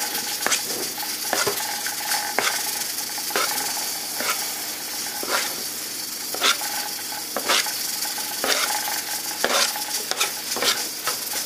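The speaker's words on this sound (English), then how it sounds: "Give this a stir with the knife." A knife stirs spaetzle through a pan, giving repeated sharp scrapes and clinks at a regular rhythm over a soft sizzle, close and clear with no voices.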